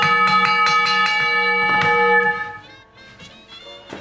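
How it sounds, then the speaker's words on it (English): A foot-struck clatter gong mounted beneath a Pacific Electric streetcar rings out in several quick metallic strikes, bright and close, then decays into a fading ring. "This is a clatter gong, and it's mounted underneath the PE car. The motorman hits it with his foot,"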